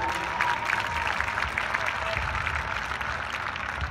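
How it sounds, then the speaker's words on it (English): A crowd at the 2016 Russell Wilson Passing Academy applauds Scott Pickett, with steady, full clapping and a few scattered voices mixed in, lasting the whole stretch at even loudness. "So give Scott a round of applause."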